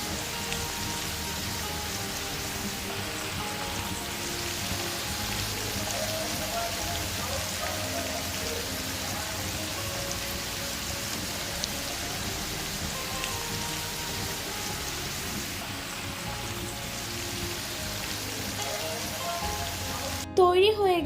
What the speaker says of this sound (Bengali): এখন যে আরও চিকেন রয়ে গিয়েছিল সেগুলোকেও আমি সেম ওয়েতে ভেজে নিব